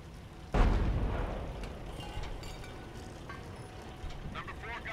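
A heavy explosion booms in the Company of Heroes artillery barrage, a deep low blast that rolls and decays over a few seconds, with fainter rumbles and battle noise after and a voice talking over it.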